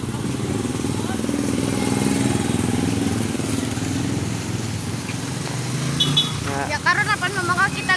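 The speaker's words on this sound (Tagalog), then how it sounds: "Mo ni siyang motor nga moandar." A motorcycle engine runs steadily and fairly close on a road, a continuous low drone that holds throughout, with a voice speaking over it near the end.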